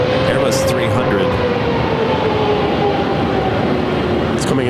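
An Airbus A300 airliner arriving at Phoenix airport sends a loud, continuous engine roar with a droning tone across the whole stretch. A voice is heard faintly beneath it.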